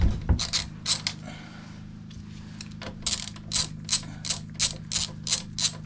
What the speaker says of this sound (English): So I've got a 10mm socket here. We're just going to take off the top